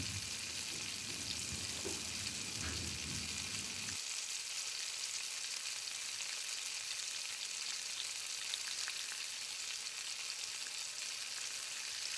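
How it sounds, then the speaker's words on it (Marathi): Gulab jamun made from khoa fry in hot oil, giving a steady bright sizzle, with a few soft bubbling clatters in the first seconds before the frying continues alone and even. "आता आपण गुलाबजामून तळायला घेऊया तेल गरम झालेलं आहे"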